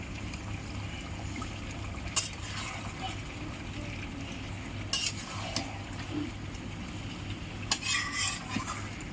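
Chicken meat being stirred and fried in a pan for a village-style curry, a steady low sizzle with occasional sharp scrapes and clinks of a spoon against the pan, close by.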